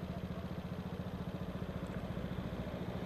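A BMW motorcycle idles while waiting at a traffic light, its engine giving a steady, low, even thrum with a regular pulsing rhythm, close by and moderately loud for the whole stretch, with no talk over it.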